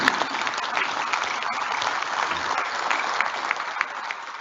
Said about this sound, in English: Come on, we need a round of applause for that.